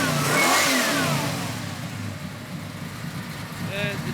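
A 1982 Chevy Silverado V8 with a 510 cam, warm and already running, revs up loudly near the start and then settles toward a rough idle, with someone speaking over the engine.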